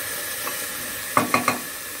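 Vegetables with onion, garlic, ginger and chillies frying in a pan, a low steady sizzle with three quick stirring scrapes close together near the end.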